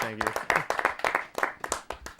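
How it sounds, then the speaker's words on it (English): A small live-music audience claps for the audio engineer, each clap sharp and distinct in an uneven rhythm, with speech mixed in. "Big round of applause for Davis Baker."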